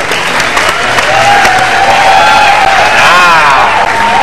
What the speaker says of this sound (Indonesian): Dan sekarang tepuk tangan akan membangunkan kamu.